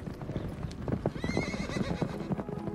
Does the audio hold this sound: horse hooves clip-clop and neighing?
yes